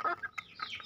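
Young Bangkok-breed chickens, about three months old, cluck and chirp in quick overlapping calls close by, with busy bird chatter throughout.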